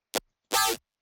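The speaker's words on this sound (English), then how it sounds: "the same FM wobble patch from earlier that used to make the yow sound" A high-pitched FM wobble bass "yow" synth from FL Studio: a short blip followed by a longer, bright, pitch-bending tone, both dry and isolated.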